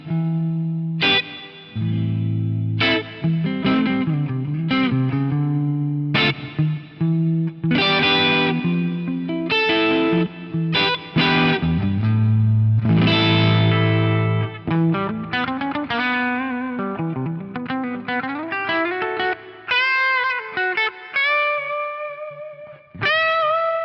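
A Gibson ES-335 electric guitar plays a clean, sustained melodic line with plucked notes and bends, solo and close, ringing out with light effects.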